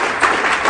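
Audience clapping at a political campaign talk, a brief burst of applause from a crowd, fairly loud and steady over less than a second.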